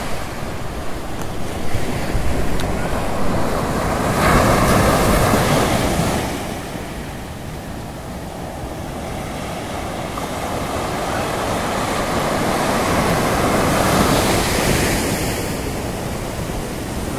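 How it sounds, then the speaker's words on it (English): Surf rolling onto Khola Beach in Goa, a small secluded beach, heard as a steady broadband wash with swells building around the middle and near the end, mixed with wind buffeting the microphone and no voices. "This is Khola Beach in Goa, at the north end of this small beach."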